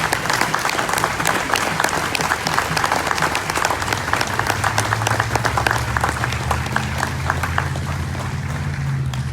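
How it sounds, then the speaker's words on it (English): A crowd at an outdoor rally in Bloomington, Indiana, gives sustained applause, with dense steady clapping and some cheering that holds evenly through the whole stretch. "I want to just have a round of applause for them right now"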